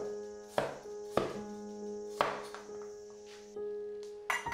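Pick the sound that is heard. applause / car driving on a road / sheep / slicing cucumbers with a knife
slicing cucumbers with a knife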